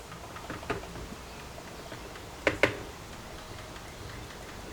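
Handlebar switch buttons on a Kawasaki Versys 650, freshly reassembled after a repair, give a few faint tactile clicks, including a quick close pair, over quiet background noise.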